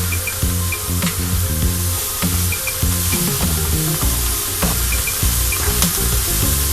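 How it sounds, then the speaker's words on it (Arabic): Two cloves of minced garlic sizzle steadily in a hot pan of oil while stuffed potatoes with minced meat are cooked, a loud, continuous close frying hiss with faint clinks and no talk. "ادي فصين الثوم مفرومين"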